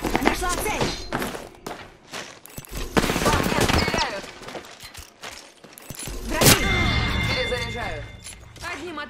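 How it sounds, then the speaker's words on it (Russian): Video game gunfire in rapid bursts and scattered single shots, fairly close and loud, with thumps and a sharp crack near the middle, mixed under a talking voice and game announcer lines. "По мне стреляют"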